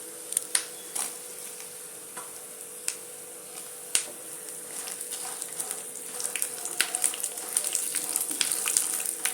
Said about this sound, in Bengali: বাদামটাকে খুব মানে টাইট করে কড়া করে ভাজতে হবে, নট নেসেসারি, জাস্ট হালকা ভেজে দিতে হবে।